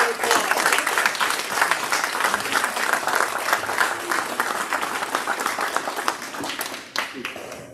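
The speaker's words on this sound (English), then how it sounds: "Give one more round of applause." An audience at a panel discussion breaks into dense, sustained applause, many hands clapping close and loud before it thins out toward the end.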